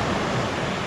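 Ocean surf rolling onto the shore at Yachats State Park, a steady close wash of broadband roar and fizzing foam filling the moment without voices.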